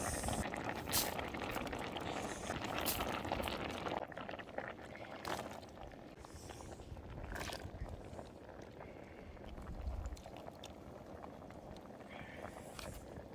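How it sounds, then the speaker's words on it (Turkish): Tarhana soup with tomato, pepper, chickpeas and beans boils in a pot, a steady bubbling and gurgling simmer with soft pops that goes on the whole time, close and quiet. "Güzel güzel kaynıyor pişirgimiz."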